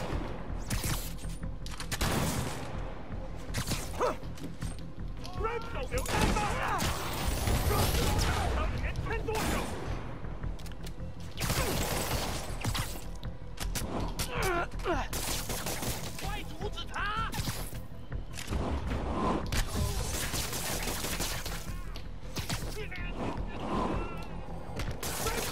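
Sniper gunfire and combat in the Spider-Man video game, with repeated sharp shots, crashes and thuds in dense bursts throughout, mixed with game effects and someone talking over it.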